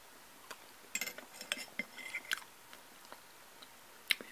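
Close-up eating of potatoes with ghee and chives, with soft wet chewing, occasional bites and a few sharp clinks of cutlery on a dish, quiet and intimate with no talking.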